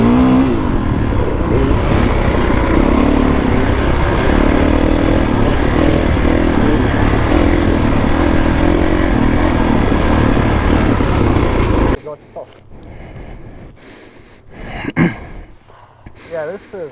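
A Kawasaki KX450X four-stroke dirt bike engine roars loudly and steadily while being ridden, revving hard for about twelve seconds before cutting away to quieter, patchy sounds with some voices.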